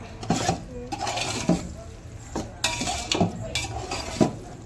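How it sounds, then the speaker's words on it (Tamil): Mushrooms being stirred and sautéed in a pot for a biryani, a spoon scraping and clattering against metal in repeated strokes with a faint sizzle underneath, close and steady. "நல்லா இதையும் வதக்கணுமா? ஆமாம், நல்லா வதக்கணும்."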